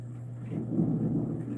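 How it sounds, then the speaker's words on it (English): Distant thunder: a low, muffled rumble swelling and lingering for a second or so, fairly faint under a steady background hum. "Oh, you guys hear that? Thunder?"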